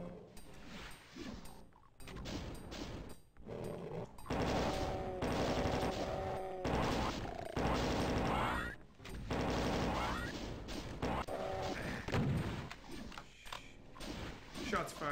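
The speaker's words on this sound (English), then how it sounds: "Shots fired." Rapid weapon fire from the video game Doom II, with bursts of repeated shots and mechanical clanks mixed with game effects, loud and dense with brief pauses between volleys.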